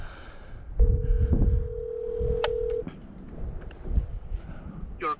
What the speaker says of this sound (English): I'm gonna call John, my neighbor